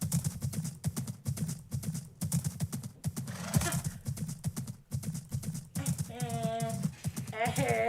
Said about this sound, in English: Let's like ride on the horse.